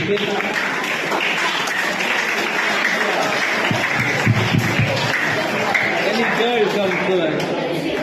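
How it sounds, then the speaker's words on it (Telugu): Applause for a student in a mathematics classroom, a steady wash of clapping from a small group that continues throughout with some voices mixed in. "చప్పట్లు కొడదాం అబ్బాయికి"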